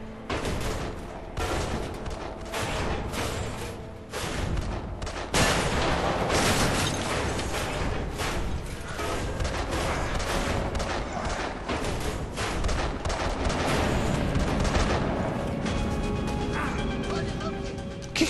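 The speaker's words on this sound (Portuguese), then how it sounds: "Estes tiros aleatórios que eu levo não fazem o mínimo sentido" Gunfire in the Deadlight video game, repeated sharp shots and crashing impacts over a dense, continuous game soundscape, fairly loud and sustained throughout.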